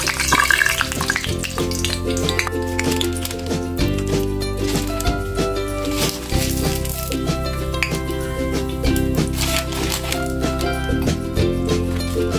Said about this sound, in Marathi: पिठाबरोबर आतलं वांग सुद्धा चांगलं फ्राय झालं पाहिजे